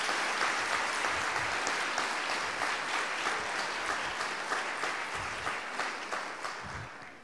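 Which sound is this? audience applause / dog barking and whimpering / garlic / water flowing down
audience applause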